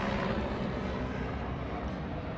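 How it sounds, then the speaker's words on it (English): Steady low rumbling drone of a helicopter passing overhead in Los Angeles, constant and fairly loud throughout with no voices. "Sorry for the helicopter."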